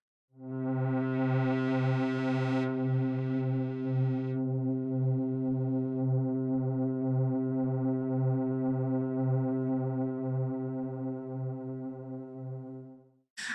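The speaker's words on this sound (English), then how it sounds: "So if I were to change it to a sawtooth wave" A sustained buzzy sawtooth-wave tone from a JUP-8 V3 synthesizer holds one bright, raw note for several seconds, steady and loud, then cuts off abruptly.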